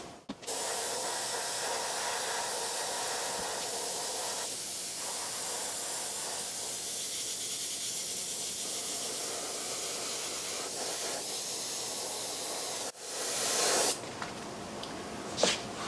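Airbrush spraying red paint over a cut stencil on a POW MIA flag design, a continuous close, even hiss of air and paint that stops briefly near the end before spraying resumes.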